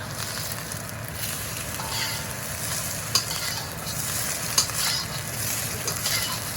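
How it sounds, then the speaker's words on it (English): Eggs are stirred and fried in a hot pan for crab and Chinese sausage egg fried rice, giving a loud, steady sizzle with scraping stirs and a couple of sharp clicks. "Just kind of like making scrambled eggs."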